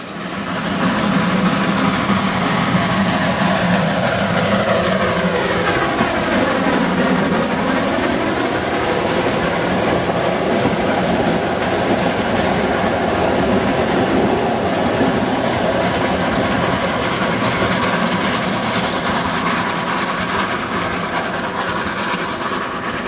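A steam train rumbles along the rails of the Harz line toward the Brocken, steady and loud, with rhythmic clattering of wheels over track joints throughout.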